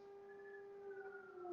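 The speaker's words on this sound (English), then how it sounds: "I hear a whole bunch of sirens out there." Faint, distant emergency sirens wail outdoors in a long steady tone that slowly drifts in pitch, heard alone and growing slightly louder at the end.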